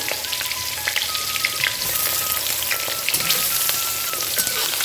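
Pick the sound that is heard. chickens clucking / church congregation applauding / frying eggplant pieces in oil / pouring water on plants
frying eggplant pieces in oil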